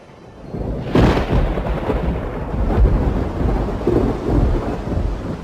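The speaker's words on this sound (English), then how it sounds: "An afternoon shower diffuses the tension." Afternoon rain shower in a forest clearing: a sharp crack of thunder breaks in and rolls on as a long rumble over steady, dense rainfall, loud and close.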